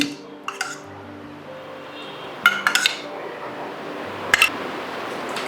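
A metal spoon scrapes and clinks against a heavy pot in a few scattered bursts, stirring a little millet kozhukattai mixture with ghee and cardamom powder, over a quiet kitchen background.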